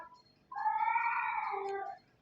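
An old female cat gives a single drawn-out meow of about one and a half seconds, close and clear, with a slight rising-then-falling tone, alone in a quiet room.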